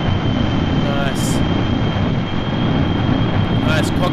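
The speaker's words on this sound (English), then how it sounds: "Let's fire up the engines, full thrust." Plane engines roaring at full thrust in Kerbal Space Program, a steady loud broadband drone with a thin whine running throughout, close and continuous for the whole span, with a voice talking over it.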